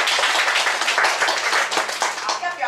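An audience claps together before a child's song performance, dense and steady clapping for a few seconds with a voice speaking over it.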